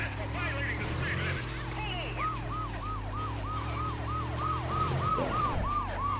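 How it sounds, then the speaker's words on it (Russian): Police car sirens wail in the PS2 racing game US Racer, 2002, a rapid repeating yelp over a steady engine drone, with someone talking over part of it. "Полицейские машины."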